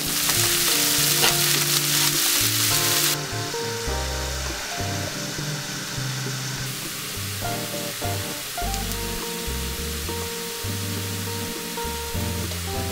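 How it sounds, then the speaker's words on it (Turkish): Washed vegetable stems fry in a pan for börek filling, a loud, dense sizzle that is fiercest at first and then settles into a softer steady hiss, with stirring noises mixed in and background music underneath. "Önceden tavaya koyup biraz soteleyeceğim."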